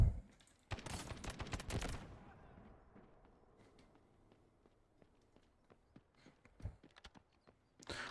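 Gunfire in the video game Delta Force, a dense burst of rapid shots near the start, then scattered distant cracks and footstep-like taps over a quiet background.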